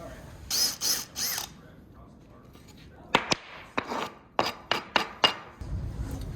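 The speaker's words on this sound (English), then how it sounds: "I'm gonna go ahead and drill that on the bench" Short bursts of a power drill spinning up and stopping, several in quick succession, close by on a workbench, after a brief stretch of mechanical whirring.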